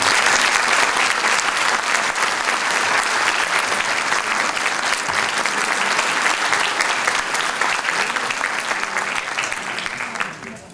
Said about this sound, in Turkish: alkışlarınızla sahneye davet ediyoruz